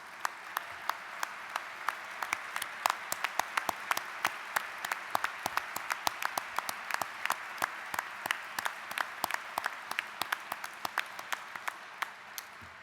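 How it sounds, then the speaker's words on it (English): Gala audience at the 2023 Marconi Society Awards applauding board members: sparse, crisp individual claps scattered through a quiet hall, continuing unevenly for about thirteen seconds without building into a roar. "if they would stand and receive a round of applause"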